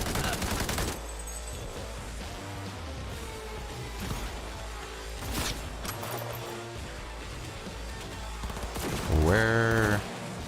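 Enemy gunfire in Cyberpunk 2077 rattles in fast bursts and volleys, loud and continuous throughout, with sharp impacts layered over game noise and a brief rising electronic tone near the end.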